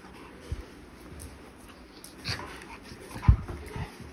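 A dog whimpers and yips in a few short, soft bursts, with a sharper yelp near the end and quiet background noise between.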